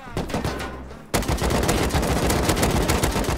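Rapid AK rifle bursts in the survival video game Rust, firing from a distance near the power plant: after a brief lull, dense continuous automatic gunfire rattles steadily through the rest of the moment, fairly loud.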